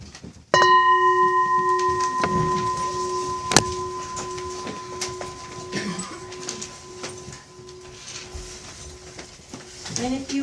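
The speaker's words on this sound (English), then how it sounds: "I'll ring the bell and we'll all stand up." A meditation bell is struck once, its clear ringing tone sustaining and slowly fading over several seconds, with a few soft knocks and faint room noise beneath during a mindfulness class.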